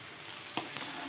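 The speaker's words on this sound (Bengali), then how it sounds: "এখানে চিকেন আর এই ফ্রন্ট ফ্রাইটাও দিয়ে দিচ্ছি, দিয়ে ভালো করে মিশিয়ে নেব সবজিগুলোর সঙ্গে।" Mixed fried rice with egg, chicken and vegetables sizzles steadily in a hot pan, broken by a single quick scrape as the ingredients are tossed together.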